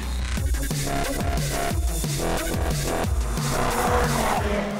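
Race car sliding into the first turn of a circuit, with loud tyre squeal and skidding over a steady roaring engine whose pitch sweeps repeatedly as the driver works the throttle.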